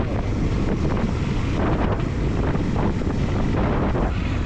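Strong wind buffets the microphone in a loud, unbroken roar, with a hint of water or waves beneath it.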